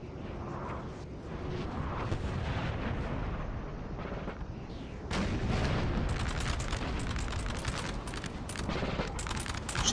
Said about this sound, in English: that was artillery